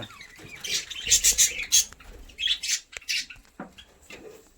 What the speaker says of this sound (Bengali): এই দেখো আমার বদ্রি পাখিগুলো